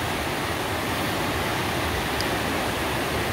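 Steady broadband rush of flowing water in a Congo jungle bonobo reserve near Kinshasa, continuous and fairly close for the whole stretch, with no voices.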